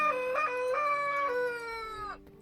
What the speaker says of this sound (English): That one cockerel.